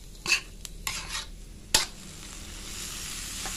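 Bamboo shoots and minced pork seasoned with soy sauce are stir-fried in a pan: a few sharp metal spatula clacks against the pan, then a steady close sizzle with no talking.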